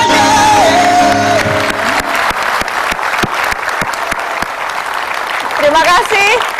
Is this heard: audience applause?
yes